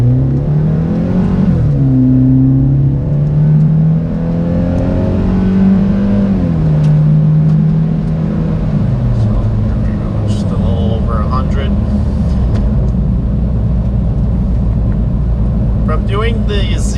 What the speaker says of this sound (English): So I'll just rev it to 1500 and go.